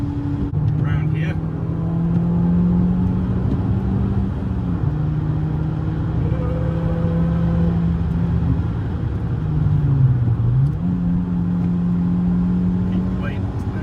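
A BMW M car drives on the Nürburgring GP circuit, its engine droning steadily from inside the cabin, pitch dipping and rising through gear changes; a voice talks over it.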